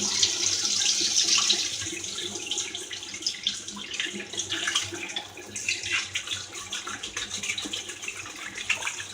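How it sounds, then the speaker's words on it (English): Tap water runs steadily into a sink to wet a shaving brush, a close, continuous splashing hiss with small fluctuations throughout and no speech. "I'm going to go ahead and get my brush wet up here and start lathering up."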